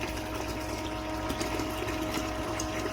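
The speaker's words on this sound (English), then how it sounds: "It's sure washing that material out fast." Water rushes steadily through mining equipment, washing magnetite material in a continuous loud, close gushing wash with no talk.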